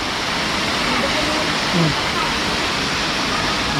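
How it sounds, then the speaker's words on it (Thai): Thung Na Mueang Falls in Khong Chiam, Ubon Ratchathani, sends a loud, constant rush of falling water that fills the whole stretch. A brief voice rises faintly under the roar. "น้ำตกทุ่งนาเมืองครับเอ้า"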